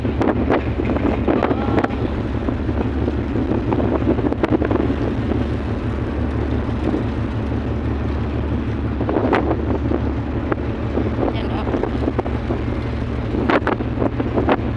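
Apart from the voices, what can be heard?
strong wind on ship deck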